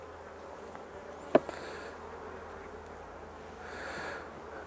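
Low, steady buzzing of many honey bees around an open hive, with a sharp knock partway through and the hum swelling slightly near the end.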